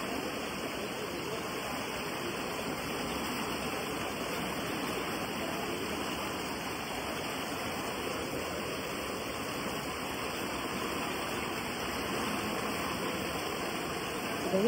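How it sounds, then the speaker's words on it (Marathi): Kalu waterfall in Maharashtra rushes with strong, high-pressure flow, a loud, unbroken roar of churning water that stays steady and close for the whole stretch, with no talk. "प्रेशर पाण्याचा फ्लो खूप जास्त आहे"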